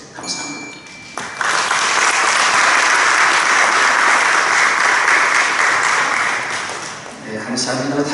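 An audience at a church general assembly candidates' policy debate breaks into loud, sustained applause that swells after a brief quiet start and holds for several seconds before tapering off.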